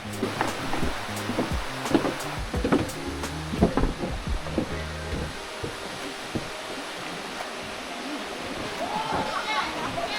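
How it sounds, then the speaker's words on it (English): A waterfall in Thailand that visitors can climb, heard from close by as a steady broadband rush of falling water, with scattered louder splashes and knocks in the first half and people talking intermittently over it. "There seems to be a few points where you can start climbing up the waterfall, and Sierra and I are heading"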